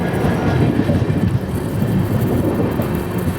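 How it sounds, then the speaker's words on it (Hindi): The Shirdi Mysuru Express running through Ginigera Junction without stopping, a loud, steady, close rumble of wheels and carriages on the rails. "अभी हमारी ट्रेन स्किप करने जा रही है गिनीगेरा जंक्शन को"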